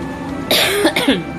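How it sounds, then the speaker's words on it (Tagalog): A person coughs close up, a short burst of two or three harsh coughs in quick succession, loud and alone with no talk over it. "Ubo ko."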